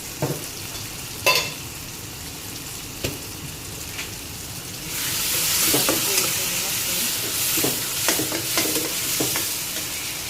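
A buttermilk-soaked rotla fries and is stirred in a pan, with a soft sizzle that swells into a louder hiss partway through and scraping stirs knocking at intervals.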